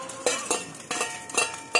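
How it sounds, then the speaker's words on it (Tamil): A utensil stirs and scrapes bee hoon noodles with egg and dried fish in a pan, making a steady rhythm of clinking scrapes about every quarter second under a faint frying hiss. "இப்ப எல்லாத்தையும் சேர்த்து நல்லா கிளறி விட்டு எடுத்துடலாம்."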